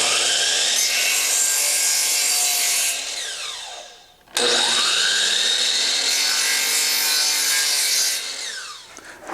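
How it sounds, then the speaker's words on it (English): A miter saw cuts a 45-degree corner off a piece of wood for a cabinet, with two loud, sustained whining cuts separated by a brief pause as the blade spins down, close and with no talking. "Then I'm going to take that over to the miter saw and just clip that off"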